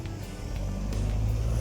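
A car on a town street, its engine rumbling steadily and growing slightly louder as it pulls away nearby, with no talking.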